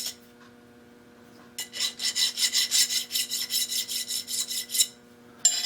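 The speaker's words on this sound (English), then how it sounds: "I'll take it, just hit it with a file a little bit." A hand file rasps across a small machined metal part to knock off a burr before it is loaded for a cut, in a quick run of about a dozen close, rhythmic strokes between quiet pauses.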